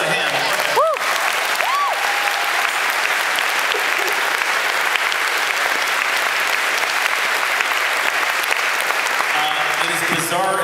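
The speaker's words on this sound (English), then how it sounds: "Give yourself a hand." A concert audience at Union Chapel in London gives sustained, loud applause, a dense, steady clapping with a few whistles and whoops scattered through it.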